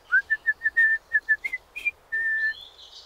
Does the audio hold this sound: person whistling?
yes